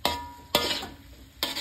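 Tempeh chips fry in oil and are stirred and flipped. Three sharp scraping, clattering strokes stand out over a low hiss of frying, with no one talking.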